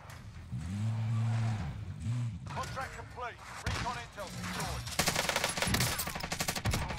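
Stoner 63 light machine gun in Warzone firing long rapid bursts, dense loud chattering fire in the second half, with a vehicle engine droning earlier and a voice talking between shots.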